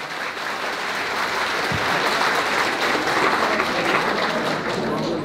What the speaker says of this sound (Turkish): Derneğimize bir kuvvetli alkışlar istiyorum sizden.